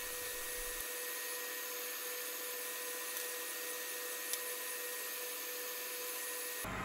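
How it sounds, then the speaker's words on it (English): A hot air rework station reheats the solder under a PS3 RSX processor with a steady, faint airy hiss that holds unchanged for several seconds and stops abruptly near the end. "So I need to go back to the hot air heating again."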